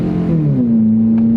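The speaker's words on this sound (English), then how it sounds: "Made a lot of noise because there's a hole in the exhaust." Economy box car with a hole in its exhaust accelerating, a loud, raw engine drone whose pitch climbs and then settles into a steady tone, close and alone.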